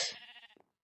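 A Minecraft sheep lets out a single short bleat, loud and close at the start, then fading into a wavering tail, with no talk over it.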